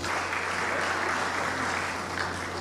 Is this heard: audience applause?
yes